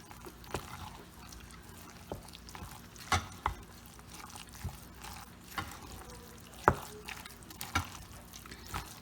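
Collard greens are stirred into a creamy mixture, producing soft wet squelches and scraping with a few sharper clinks of the utensil against the pan, close and fairly quiet, with no talking.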